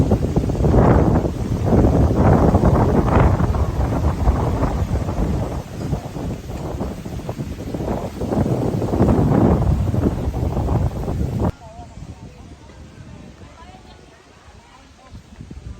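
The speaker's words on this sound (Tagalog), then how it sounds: "malakas ang hangin dito, presko" Strong wind buffets the microphone in heavy gusts while a person talks, then the rushing quiets to a softer breeze, at Sinagtala Adventure Park in Orani, Bataan.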